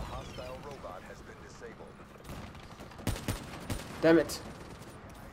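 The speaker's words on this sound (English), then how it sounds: "No, I'm getting shot at." Gunfire in the video game Call of Duty: Black Ops 3, with scattered shots over steady game ambience and a player talking.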